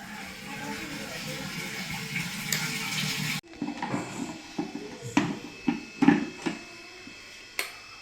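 Water pours and splashes steadily for a few seconds, then stops abruptly and is followed by scattered clunks and knocks nearby.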